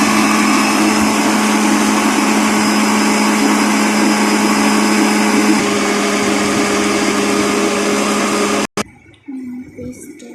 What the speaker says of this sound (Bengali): এখন যে ব্লেন্ডার আবার করছি